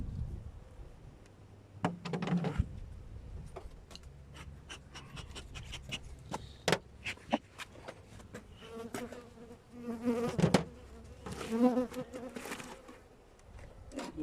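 Honey bees buzzing around an opened hive during an October colony inspection, a close, wavering drone with individual bees swelling past, mixed with sharp clicks and knocks of handling frames and equipment, no speech.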